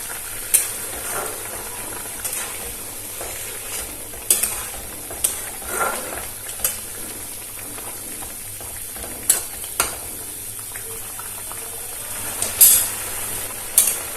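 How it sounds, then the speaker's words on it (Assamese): A taro and elephant apple curry with slit green chillies simmers in a pan on a gas stove, a soft steady bubbling hiss broken by occasional faint knocks and clinks. "এতিয়া অলপ উতলিবলৈ দিম আৰু ধুনীয়াকৈ উতলি আছে"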